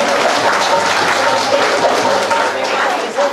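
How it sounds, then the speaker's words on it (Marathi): Steady, dense applause from an audience at a senior citizens' programme, continuous and fairly loud throughout, with no break. "जोरदार टाळ्या होऊन जाऊ द्या"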